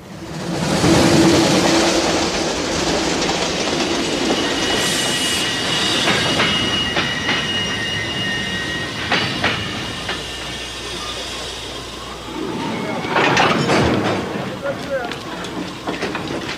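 A train rumbles along the rails with clattering wheels and a squeal of metal, while voices murmur faintly over the loud, steady noise.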